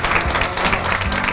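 Steady clapping from a group fills the space, dense and continuous without pause, fairly loud and close.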